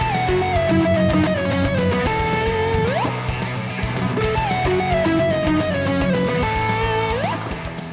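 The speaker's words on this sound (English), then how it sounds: "the more challenging version of those sliding octaves that I showed you sounds like this" Electric guitar played through a Soldano SLO100 amp model in the Neural DSP plugin, playing sliding octave phrases with a saturated lead tone and smooth upward glides, loud and continuous with a backing groove underneath.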